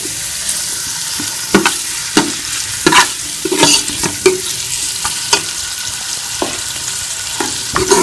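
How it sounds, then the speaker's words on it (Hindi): Onions sizzle in ghee inside a pressure cooker, a steady close hiss of frying broken by repeated scraping stirs with a spoon at irregular intervals. "आधा चम्मच हम घी का डालेंगे प्रेशर कुकर के अंदर और इसमें ये प्याज डाल के इसको हल्का सा ब्राउन कर लेंगे।"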